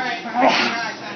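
A single short, breathy sneeze bursts out amid excited voices talking nearby.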